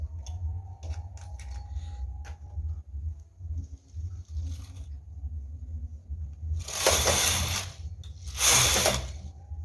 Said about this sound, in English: I'm going to pack all my needles together and knit 2 rows.